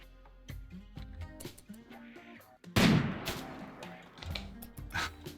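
Gunfire from the RimWorld video game, a few sharp shots scattered among background game music and effects, with a louder burst near the middle, moderately loud and close.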